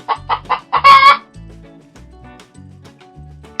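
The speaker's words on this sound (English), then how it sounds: "H is for hen." A hen clucks several times in short throaty bursts, one louder drawn-out squawk in the middle, set against a simple repeating musical backing.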